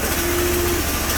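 The engine of a 20 HP Bolens 1600H Hydro garden tractor runs steadily with its choke stuck on, a close, constant droning hum with no pauses.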